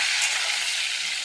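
Paneer with turmeric and salt stirred in a frying pan, a steady broadband sizzle and scraping churn running continuously and close, with no talking.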